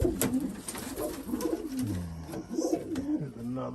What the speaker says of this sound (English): Another bird that came back.